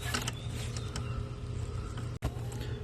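A 10 mm socket wrench on an extension loosens the main power wire bolt on the alternator of a 2008–2013 Lexus IS250/350. It gives a close, steady run of creaking, clicking ratchet turns with a brief break near the end.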